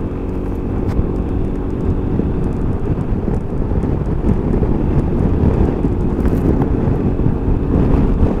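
Steady wind buffets the microphone with a constant roaring rush and low rumble while riding a Yamaha XMAX 300 scooter through open air near Ronda, Spain.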